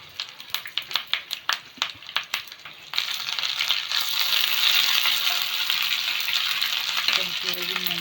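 Tempering seeds, curry leaves and ginger-garlic paste fry in hot oil for an arikelu vegetable kichidi: first sharp crackling pops, then a loud, steady sizzle close by.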